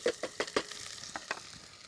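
Onions fry in hot oil in a pot, with a soft sizzle broken by a few sharp stirring knocks and scrapes, mostly clustered early and then spaced out, close and fairly quiet.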